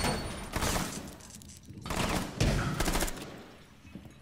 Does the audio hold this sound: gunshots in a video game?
yes